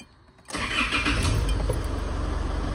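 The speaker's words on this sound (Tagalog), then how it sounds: "Hanggang tumigas, tapos start nyo makina." A car engine cranks and catches after a quiet pause, then settles into a steady close idle with a smooth mid-range hum, following a brake master cylinder and booster replacement.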